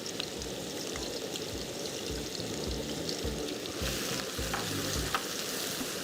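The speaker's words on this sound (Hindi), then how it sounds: "अभी मैं आप पे तकरीबन 2 मीडियम अनियंस डाल रही हूँ" About two medium onions, finely diced, fry in a hot pan for moussaka with a steady dense sizzle and soft crackle, punctuated by periodic scraping stirs, close and continuous without any talk.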